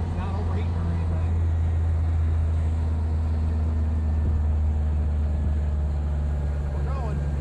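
A 1959 Peugeot 203C engine drones low and constant while the car is driven uphill, a steady close rumble under the hum of the cabin, with a person talking over it.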